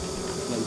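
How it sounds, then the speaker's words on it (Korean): A dense, continuous insect buzzing fills the air, close and steady, from black-backed hornets around a wild honeybee nest in a pine tree. "등검정도 와 있어요. 등검정 말벌."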